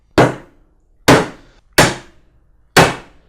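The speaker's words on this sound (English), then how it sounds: "you're ready to drive your first nail in" Four sharp hammer blows drive an inch-long wire head nail into a wooden National gabled beehive roof, each strike loud and close with a quick ringing decay and brief pauses between.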